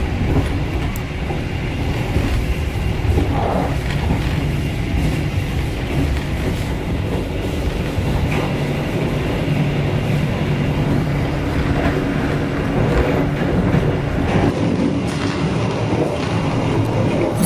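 Argo Bromo Anggrek passenger train heard from inside the carriage as it runs on the rails between Jakarta and Surabaya: a loud, steady rumble with faint clicking and rattling throughout.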